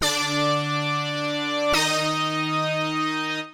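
Two sustained synth brass chords, the second raised one semitone and entering with a sharp attack about halfway through, ringing loud and bright before cutting off.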